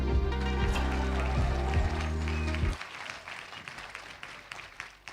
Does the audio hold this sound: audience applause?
yes